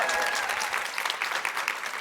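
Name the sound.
audience applause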